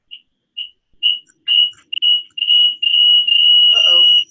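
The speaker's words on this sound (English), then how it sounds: "We got a fire alarm going" A fire alarm going off during a live online Q&A session: a loud, high electronic tone beeps in short bursts that lengthen into a near-continuous shrill sound, with a voice starting to speak near the end.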